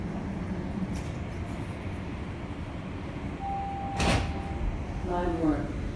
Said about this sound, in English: Doors will open on the left.